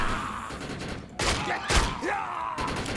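Gunfire in the video game Defiance, a few loud sharp shots and thuds over a dense background of game noise.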